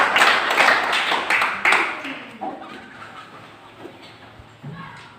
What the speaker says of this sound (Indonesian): Mari kita sama-sama memberikan tepuk tangan.